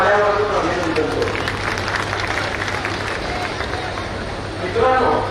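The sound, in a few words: audience applauding the organisers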